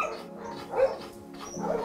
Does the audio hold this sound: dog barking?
yes